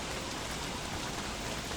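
Rain falls in the video game Don't Starve Together as a steady, dense hiss that stays even throughout, with no voices over it.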